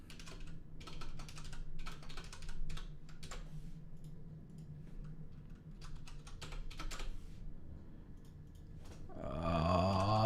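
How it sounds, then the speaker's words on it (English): Rapid typing on a computer keyboard with irregular bursts of key clicks, close and clear, ends in a short squeaky grunt-like sound, with no speech. "I guess the good news is I only have to type these once."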